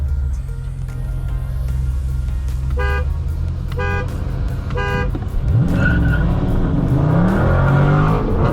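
Three short car horn honks in a row, followed by Dodge Charger Scat Pack engines revving hard as the cars accelerate away, loud and close.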